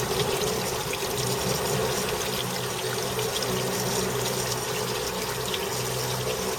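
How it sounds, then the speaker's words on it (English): Water flushes steadily through a Mercedes 280E heater core under hose pressure, a loud, unbroken rushing and gushing that stays constant from start to finish with no speech. "And I'll do the same in reverse again, and just flush each one separately."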